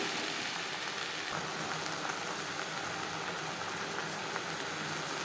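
Jute greens fried in a pan with chili and garlic, giving a dense, even sizzle that holds steady throughout, close and fairly soft with no voices.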